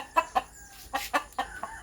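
Chickens clucking close by in a quick series of short, sharp clucks, several in a row with brief pauses between them.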